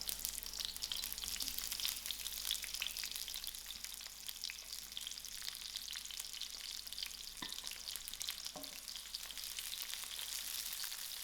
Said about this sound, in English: Now I'm ready to give my onion a soft fry.